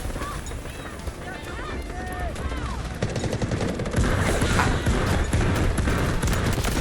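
SR-3M rifle gunfire in the Delta Force shooter game, dense rapid bursts and other weapon shots amid chaotic battle noise, with someone talking over the action throughout.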